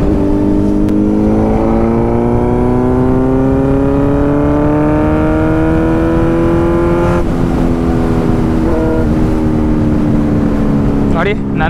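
A Kawasaki Z900 motorcycle engine drones loudly and steadily, its pitch climbing slowly under acceleration and then dropping as it slows on engine braking, close and continuous with no pauses.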